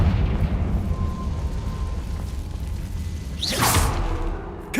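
A Confringo fire spell in Hogwarts Legacy lets out a rushing whoosh and a booming blast near the end, over a low, rumbling ambience.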